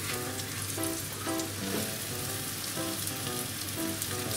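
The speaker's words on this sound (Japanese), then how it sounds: "ちょっと強火でやってるんで一回中火ぐらいに落として一回ひっくり返してみます。" Potato cheese mochi fries in a pan over high heat, giving a dense, even sizzle with crackling pops, close and steady with no voices.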